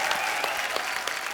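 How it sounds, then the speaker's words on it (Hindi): A full studio audience claps continuously at a Hindi comedy talk show, close and steady throughout the short stretch, with no voices standing out. "जोरदार तालियां एक बार वैभवी मर्चेंट के लिए।"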